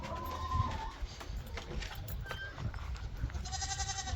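Goats bleating on a farm, a few faint calls rising over quiet outdoor background noise with scattered small clatters, distant and soft throughout.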